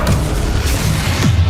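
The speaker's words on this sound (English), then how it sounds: "Depulso." Depulso force-push spell fired in Hogwarts Legacy, a loud, close, heavy boom with a thudding low punch that fills the brief moment amid steady game rumble.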